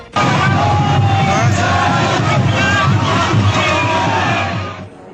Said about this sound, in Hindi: इस दौरान घाट पर लोगों की भारी भीड़ देखी गई, जहां लोगों ने डुबकी लगाई